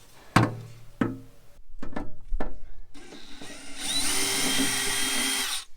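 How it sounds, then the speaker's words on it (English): Power drill boring a small pilot hole, with a few sharp knocks as the bit is set, then a steady high motor whine that builds and holds close by. "We're going to go ahead and drill a small pilot hole in the most dangerous spot over here"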